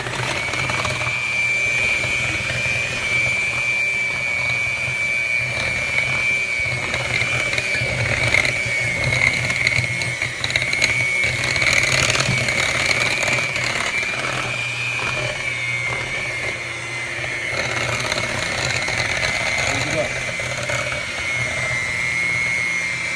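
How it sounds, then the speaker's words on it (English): Electric hand mixer whirring steadily through waffle batter in a home kitchen, a continuous motor whine that wavers slightly in pitch as the beaters move through the bowl. "let's get the mixer"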